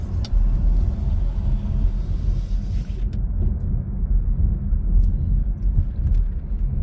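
A car driving along a road gives a steady low rumble of engine and tyre noise throughout, with a slight change in tone partway through.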